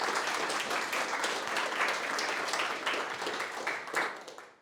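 An audience applauds as a speaker is introduced for a talk on narrative design, a steady, dense wash of clapping from many hands that tapers off at the end.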